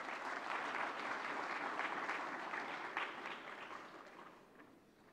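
Applause fills a hall to welcome a minister at a health-authority valedictory session, a steady, dense clapping from a large audience that slowly fades toward the end.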